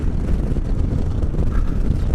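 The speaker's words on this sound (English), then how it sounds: "It's a very windy day today." Wind blusters steadily on a very windy day, a loud, continuous low roar against the microphone with no speech.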